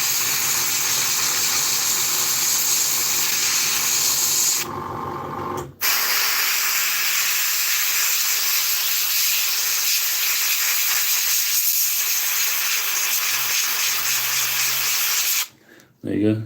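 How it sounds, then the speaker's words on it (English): An airbrush sprays paint onto a container box for an Italeri 1/48 scale Pave Hawk helicopter model. The loud, steady hiss runs close to the mic and breaks off briefly twice. "Sorry about the noise, that is the airbrush."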